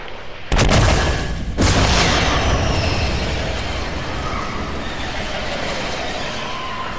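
Fortnite gunfire cracks out in two loud blasts, the second followed by a long rumbling decay, with no talk over it.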